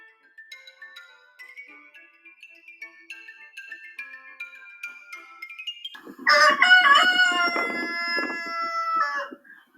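A rooster crows loudly and close by, one long drawn-out call following a stretch of softer, tonal sounds.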